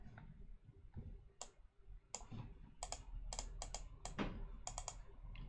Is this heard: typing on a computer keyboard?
yes